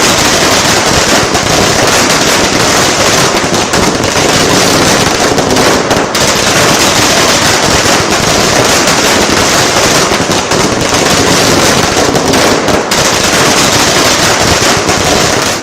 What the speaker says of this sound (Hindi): यह वक्फ बिल पास होने के बाद सुबह पटाखे जलाए जा रहे थे।